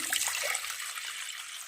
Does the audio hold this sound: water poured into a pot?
yes